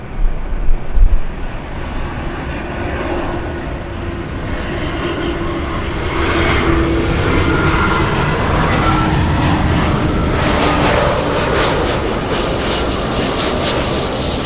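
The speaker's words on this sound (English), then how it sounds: "Out there in the distance, we have All Nippon 787 starting his taxi and heading to the north side for" A loud, continuous aircraft engine roar fills the scene at LAX as an All Nippon Airways Boeing 787 taxis toward the north side, the steady jet rumble swelling slightly in the second half with no talk over it.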